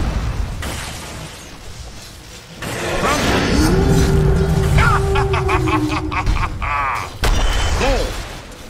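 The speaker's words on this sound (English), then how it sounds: "Attack! Thunderclap!" A video game thunderclap attack sounds with crackling bursts and a ringing, pitched electric sweep that rises and warbles, loud and up close, before cutting off.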